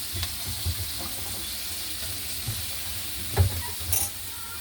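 Food frying in a pan until browned, a steady soft sizzle with occasional scrapes and light clinks of stirring.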